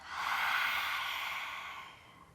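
During a slow-flow yoga practice, a single strong lion's breath exhale pushes out as a loud, hissing, open-throated whoosh of air, swelling briefly then tapering off, heard up close with no talk.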